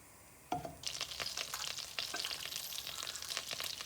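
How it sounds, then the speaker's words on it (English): Butter drops into hot oil in a pan for dal makhani, bursting into a sudden sharp sizzle that continues as a crackling, spattering fry with stirring noises. "Then I'm going to add the butter."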